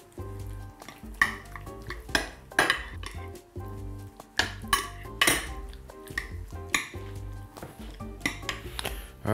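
A spoon stirs strained yogurt with a few drops of olive oil and pieces of lamb in a bowl, making repeated close clinks and scrapes in an uneven rhythm, with soft wet swishing between strokes.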